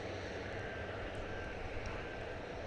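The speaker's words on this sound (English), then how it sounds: "We do have a Delta aircraft making its way across the bridge from the east side, from Terminal E." Delta Airbus A320 taxiing across a bridge at DFW airport, a steady moderate jet engine whine and rumble over the brief span, no voices.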